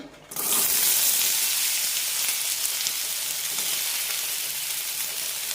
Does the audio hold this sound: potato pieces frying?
yes